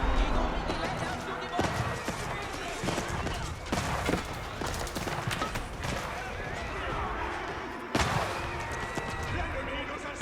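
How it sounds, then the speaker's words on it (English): Hand cannoneers firing during an Age of Empires 4 battle, with scattered booming shots and clattering combat sounds set low under a busy mix. A sharper blast stands out near the end. "Hand Cannoneers firing away"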